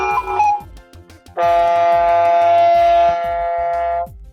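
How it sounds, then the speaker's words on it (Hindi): A water-going ship sounds its horn in one loud, sustained, tonal blast lasting nearly three seconds before cutting off, with a quiet rhythmic backing underneath. "ये शिप की आवाज है,"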